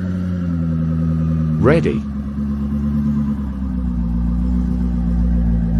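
A Koenigsegg CC850 engine runs with a loud, steady low drone. A quick rising and falling tone cuts in briefly, and a short spoken word is heard over it.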